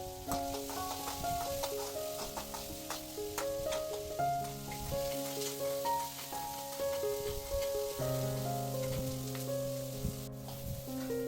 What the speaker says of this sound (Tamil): இந்த கடாயில் கொஞ்சம் வெங்காயம் அந்த கடாயில் கொஞ்சம் வெங்காயம் போட்டு நல்லா ரெண்டையும் வதக்கி விட்டுடலாம்